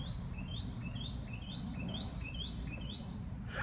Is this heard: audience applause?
no